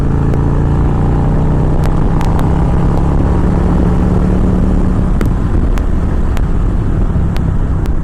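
A 2017 Victory Magnum motorcycle pulls a fourth-gear roll-on from 50, its exhaust a low steady drone buried under heavy, constant wind rush for about eight seconds.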